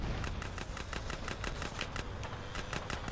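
Rapid automatic gunfire from the video game GTA San Andreas, a steady rattling burst of repeated shots running continuously at moderate loudness, with no talking over it.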